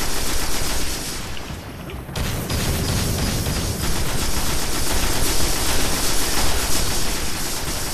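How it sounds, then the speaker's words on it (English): Sniper and rifle fire during a Destiny beta matchmaking match, a dense continuous barrage of loud gunfire and game noise with a brief dip near the two-second mark before the shooting resumes. "Yo, they're sniping at us."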